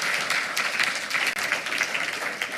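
An audience at a school board meeting gives a steady round of applause to an honoree, brisk, close, continuous clapping that holds at an even level throughout.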